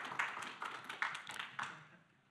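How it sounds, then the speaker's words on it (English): Scattered light clapping from a small audience at a startup week event, faint and sparse, a few quick bursts of hand claps that trail off within a couple of seconds. "Give a round of applause for Ryan."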